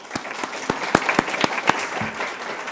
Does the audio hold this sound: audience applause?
yes